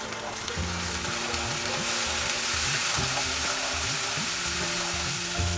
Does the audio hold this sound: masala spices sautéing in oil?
yes